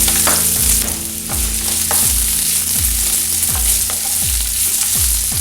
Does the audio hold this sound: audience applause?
no